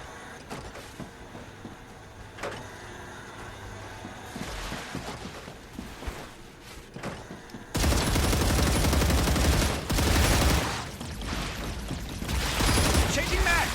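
Rapid gunfire in the sci-fi survival game StarRupture, bursts of shots crackling around the player, getting louder and denser in the second half, with a voice talking in stretches.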